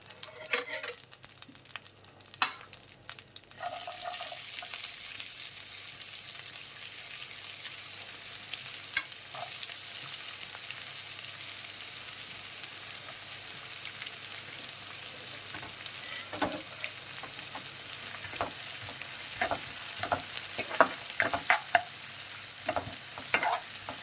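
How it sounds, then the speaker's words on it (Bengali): Chopped onions fry in a pan after potatoes have been fried for an egg curry, a continuous bright sizzle lasting throughout with occasional stirring scrapes and clicks, no talking. "এবার আমি পেঁয়াজ কুচিগুলো দিয়ে দেবো।"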